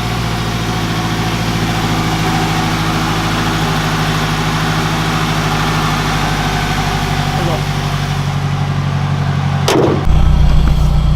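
A loud turbocharged Honda K20 engine in a Civic idles with a steady, rough low rumble throughout, ending in a sharp bang and a brief surge of revving.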